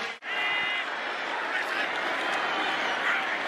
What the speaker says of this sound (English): This crowd is reinvigorated.